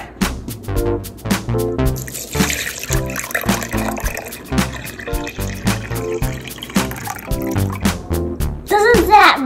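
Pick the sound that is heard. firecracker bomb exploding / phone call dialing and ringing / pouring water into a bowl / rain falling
pouring water into a bowl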